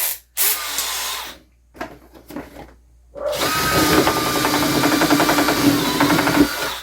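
A small bit drilling slowly to widen a hole for a mini aquaponics setup: short bursts of whirring with pauses between them, then a longer continuous grinding whine, close and loud, with no talking.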